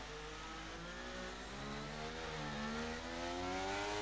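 Race car lapping the Singapore street circuit, its engine droning loud and steady with harmonics rising and falling as revs change through corners, a continuous whine with no voices.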